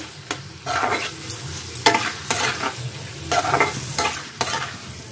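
Spices for a radish curry fry in oil in a pot. A continuous sizzle runs throughout, broken by a string of loud, rhythmic scraping stirs close by, with no talk.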